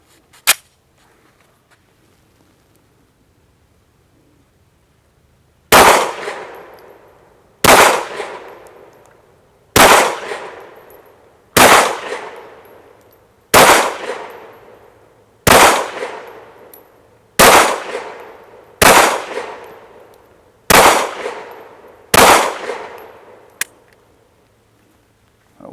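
Competition pistols, a Canik Rival or Smith & Wesson M&P Competitor, fire ten loud sharp shots at a steady pace, roughly two seconds apart. Each report rings out and decays in the open air after a quiet lead-in.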